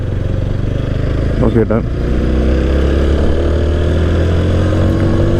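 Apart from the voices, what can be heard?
TVS Apache RTR 160 4V motorcycle engine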